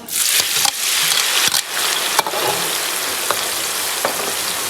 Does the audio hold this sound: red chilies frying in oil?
yes